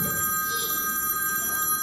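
A mobile phone rings steadily with a continuous electronic ringtone, loud and near, during a magic show at a Fright Fest Halloween event at Six Flags America.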